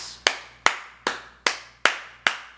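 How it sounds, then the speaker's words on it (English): Six sharp hand claps land at an even, slightly slow rhythm, close and crisp, each with a short fading tail and no voices. "I give it a 9 out of 10 claps."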